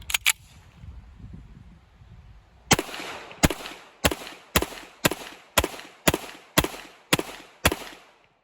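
Colt Gold Cup National Match pistol firing about ten shots in a steady, evenly spaced string after a couple of early reports, each a sharp, loud, close crack.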